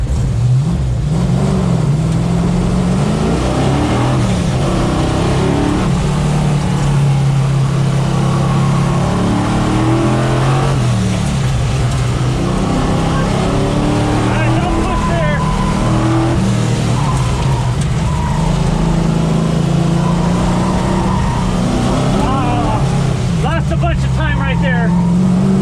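A Chevrolet C10 truck's engine roars continuously through an autocross lap, rising and falling with acceleration and braking between corners. A brief tire squeal comes near the end, and loud cabin noise persists throughout.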